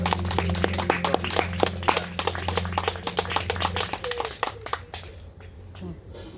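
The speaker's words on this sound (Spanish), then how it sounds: "¿Por qué no le damos un fuerte aplauso al Señor?" A church congregation claps together during a worship service, quick close hand claps keeping a steady rhythm for about four seconds before fading out, with voices heard among them.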